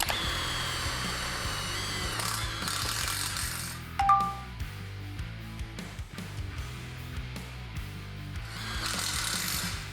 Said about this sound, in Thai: ประมาณนี้นะครับสำหรับการใช้ Impact ยิงสกรูเนี่ย